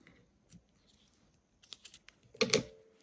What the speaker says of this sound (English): then we should be able to cut off our yarn